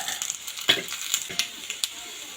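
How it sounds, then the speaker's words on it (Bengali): Spice paste with bay leaves sizzling and frying in hot oil, a steady crackle broken by several sharp spatters and stirring scrapes, close and fairly loud. "পেস্টটা ভালো করে লাল লাল করে ভেজে দেওয়া লাগবে।"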